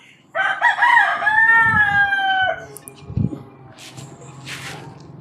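At a hilltop Murugan temple near Sathyamangalam, India, a rooster crows loudly once, a long drawn-out call lasting about two seconds, followed by fainter background noise and a few soft thumps.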